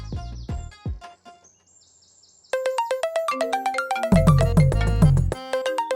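A phone ringtone plays as a call is placed, a bright electronic melody that stops briefly and then starts up again louder with a repeating rhythmic pattern, clear and close with no talking.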